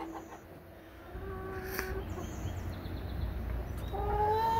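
A pet hen gives a few soft, scattered clucks and chirps while being held, fairly close, over faint background rustle and no talking.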